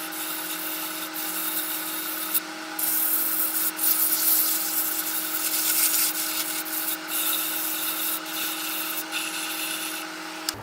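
Steady rubbing drone of a rotary sanding tool smoothing a small softwood Christmas tree craft piece, running continuously up close with slight changes in pressure and no talking.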